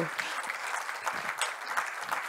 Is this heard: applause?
yes